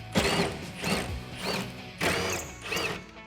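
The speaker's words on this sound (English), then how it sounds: "Grab a T30 Torx bit and remove the 2 screws at the center." A ratchet fitted with a T30 Torx bit loosens screws from the accessory rail of a 2016-2019 Toyota Tacoma bed, making several close, loud bursts of rapid clicking separated by short pauses.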